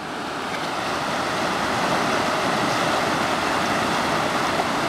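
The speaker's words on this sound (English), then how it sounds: "Nice creek." A mountain creek along a Chaffee County road rushes steadily, a dense, even wash of water noise close by, mixed with some wind and no talk.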